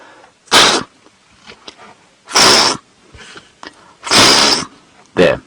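A person voices an imitation of a topi antelope alarm call on a safari drive, repeating four loud, explosive snorting bursts spaced about two seconds apart, with faint sounds in between.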